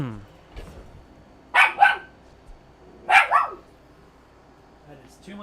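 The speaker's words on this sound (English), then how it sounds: "You guys probably don't want to hear a yappy dog" A small yappy dog gives two pairs of sharp barks, about a second and a half apart, fairly close, with a voice heard faintly at the start and background quiet otherwise.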